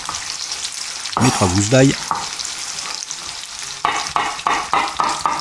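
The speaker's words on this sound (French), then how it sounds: "on met tout ça dans la poêle, on va faire revenir ça, colorer tout ça" Potatoes frying and browning in a pan for a Savoyard truffade give a steady, close sizzle with stirring, running under a man's speech in French.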